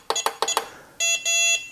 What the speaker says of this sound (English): you have to push the reset button 3 times, and there should be 2 beeps